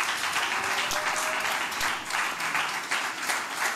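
A congregation applauds a lay preacher at a church service, steady full-room clapping that holds loud and even throughout.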